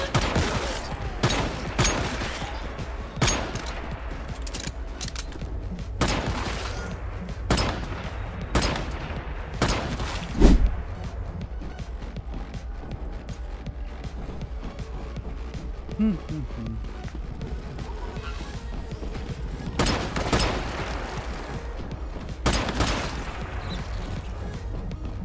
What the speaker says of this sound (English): Pistol is just too strong, and this isn't even a purple pistol, this is just a normal pistol.